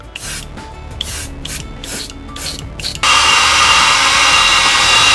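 A fine-tipped airbrush spraying pearlescent paint onto a fishing lure: quiet rubbing and handling sounds come first, then a sudden, loud, continuous hiss of spray that lasts to the end, with no speech.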